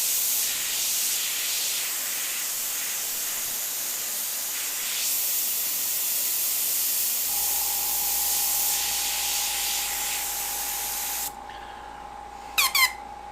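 Airbrush hissing steadily as it sprays paint on a jack-o'-lantern mummy, a continuous broad spray with a faint tone joining midway, then stopping near the end with a few small squeaky clicks.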